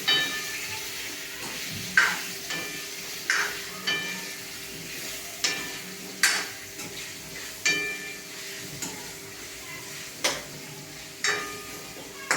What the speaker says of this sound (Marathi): आता तेलाचं टेम्परेचर कमी झाल्यानंतर आपण याच्यामध्ये बटाटे पण टाकूया आणि व्यवस्थितपणे हलवून घेऊ